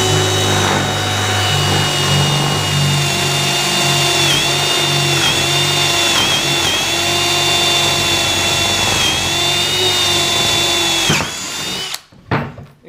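A power drill with a bit boring through 1-inch oak gives a loud, steady, high whine that runs for about eleven seconds before the motor cuts off and winds down.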